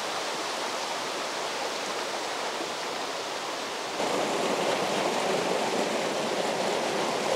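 Steady rushing water of a forest stream flowing past a road in Pa Miang, Lampang, continuous, loud and close, with no other sounds standing out.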